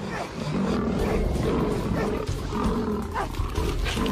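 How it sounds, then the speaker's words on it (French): A lion locked onto a man's leg roars and growls in a loud, continuous, rough rumble that fills the whole stretch without pause. "Mais la jambe de Gary est toujours coincée dans la gueule du lion."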